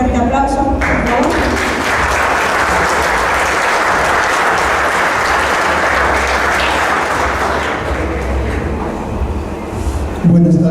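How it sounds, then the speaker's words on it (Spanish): Loud, sustained applause from an audience at a book presentation in Jalpa de Méndez, dense clapping filling about ten seconds before tapering at the end. "Un fuerte aplauso, por favor."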